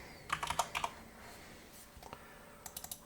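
Keys clatter on a computer keyboard in short, quick bursts of typing and clicks, separated by quiet gaps, close and fairly soft.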